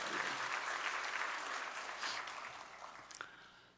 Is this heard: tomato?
no